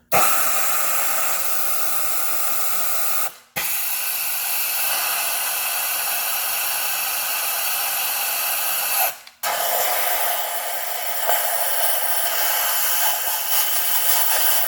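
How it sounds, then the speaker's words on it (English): An air blowgun blasts oil and brake cleaner remnants out of a spark plug hole on a 2003 Toyota Corolla engine, three long loud hissing bursts separated by two brief pauses. "take our blowgun and blow all the remnants of the oil and brake clean out of there"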